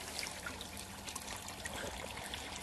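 Water trickles and splashes out of a borehole well being drilled in Lviv with drilling mud, a faint, continuous gurgling stream with small irregular drips and no voices.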